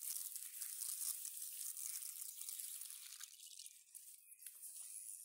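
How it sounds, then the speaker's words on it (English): Loose dirt is rinsed off foraged plants under running water, a faint, steady hiss of flowing water with slight splashing and crinkling as the stems are handled, without speech. "So we'll give them a rinse to get the loose dirt off."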